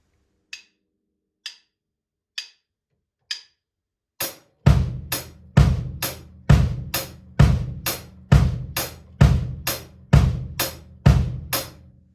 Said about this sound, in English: playing quarter notes with the right hand on the hi-hat